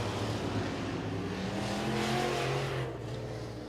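Modified race cars roar past together down the front stretch of a racetrack, a steady droning engine howl holding loud throughout and easing slightly at the end.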